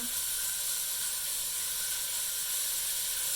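Short ribs searing in a hot pan give a steady, even hiss of steam and sizzle that holds at the same level throughout, close up and with no voices over it.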